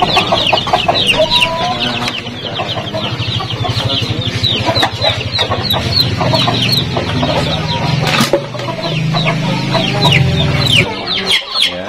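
Several free-range native village chickens cluck continuously and close by on a farm, overlapping in a busy chorus, with occasional louder squawks.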